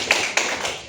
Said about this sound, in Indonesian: Pintar ya, tepuk tangan untuk teman-teman.